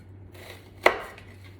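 A single sharp knife chop through an onion on a cutting board, one close, crisp strike standing out over a faint steady hum.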